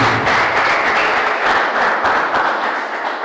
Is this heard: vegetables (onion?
no